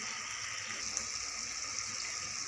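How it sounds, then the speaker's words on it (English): Water is poured into a cooking pan while a Bengali shukto is being made, a faint, steady, even hiss of running liquid with no talking. "Now I added 4 cup water and covered the pan for 5 minutes."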